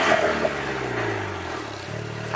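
Engine of a Vanderhall Venice Blackjack three-wheeler revving loudly and close by, a steady drone with a pitch that sags slightly and then climbs again near the end, with no talking.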